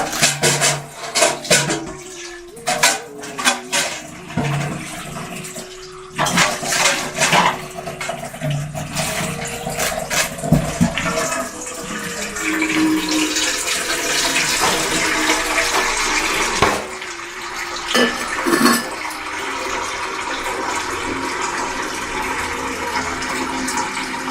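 Water runs from a household tap and splashes into a metal vessel, starting in uneven bursts and then settling into a steady loud gush that continues to the end.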